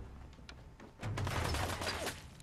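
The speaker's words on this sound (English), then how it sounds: "Oh god, they're shooting at me!" Enemy gunfire in Fallout 4 breaks out faintly, starting with a few scattered distant shots and then swelling into a sustained, dense volley of overlapping fire.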